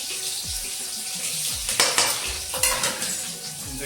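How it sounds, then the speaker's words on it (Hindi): Tempering spices sizzle in hot oil for an okra dish with steady frying hiss, punctuated by a few metallic clinks of a utensil against the pan. "ये लग गए फोरन तड़का।"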